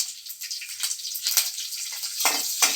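Curry leaves dropped into hot oil while tempering a rasam, giving a steady close crackling sizzle with sharper bursts of spitting near the end, and no talk.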